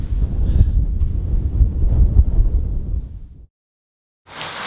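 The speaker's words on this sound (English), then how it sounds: "I can hear the wind out there." Wind roars in a low, buffeting rumble outside a small speedboat cabin, then cuts off to silence before a short burst of hiss returns.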